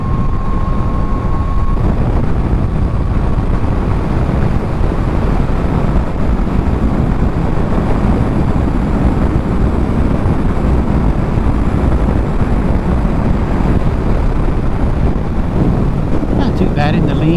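Riding a Yamaha MT-09 motorcycle, heavy wind buffeting roars across the microphone over a low engine rumble, constant and loud throughout with no clear pause.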